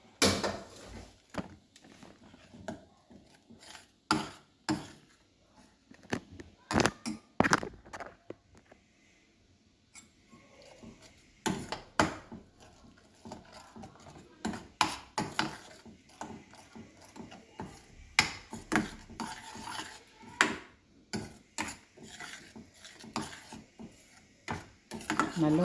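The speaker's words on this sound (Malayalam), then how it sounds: "നമുക്കിതിനെ ഇളക്കാം." Shahi paneer masala is stirred in a pan, giving irregular clacks and scrapes of a spoon against the metal that come in bursts with short pauses, close and fairly loud.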